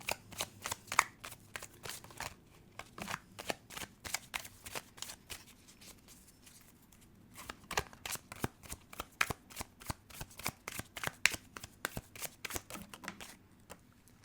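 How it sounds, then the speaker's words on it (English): Tarot cards get shuffled over and over by hand, quick crisp overhand riffles in rhythmic bursts with a brief pause midway, close and fairly quiet, with no talking. "but let's continue shuffling."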